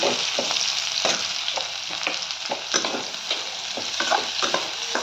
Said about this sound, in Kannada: ಚಂದ ಹುರಿದು ಕೆಂಪಾಗುತ್ತಾನೆ. ಎಣ್ಣೆಗೆ ಹುರಿದು